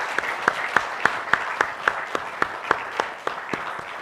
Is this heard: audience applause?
yes